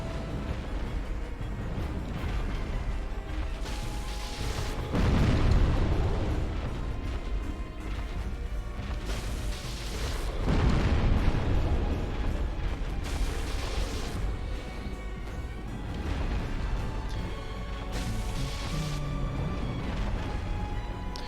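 Booming explosions from a boss fight in the game Dark Souls erupt in several heavy bursts a few seconds apart, each a loud rumbling crash over a continuous mechanical game backdrop.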